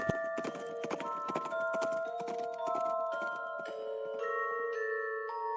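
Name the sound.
horse running away in Quest for Infamy video game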